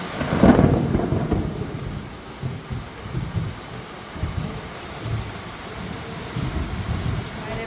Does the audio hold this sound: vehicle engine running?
no